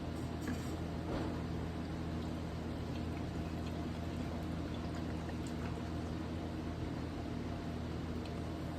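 Printer ink pours steadily from a bottle into a container, a continuous close liquid trickle and gurgle lasting several seconds at low level, with no voices.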